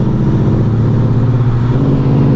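Engines of a tuned Honda Civic Type R and a 2020 Mustang GT, the Civic fitted with an intercooler, street exhaust and stage 2 tune, a loud steady close-up rumble held at constant pitch without rising revs.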